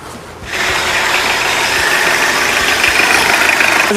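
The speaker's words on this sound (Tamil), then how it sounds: "வண்டி இப்போ இன்ஜினை வந்து ஸ்டார்ட் பண்ணி காட்டுறேன்" A used car's engine catches after a brief quiet moment and settles into a loud, steady idle with a continuous rumbling hum close by.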